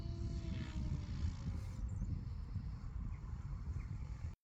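A radio-controlled model helicopter flying in light wind, the pilot about to cut the throttle for an autorotation, gives a steady broadband whir and rush that holds evenly throughout at moderate level, with no voices.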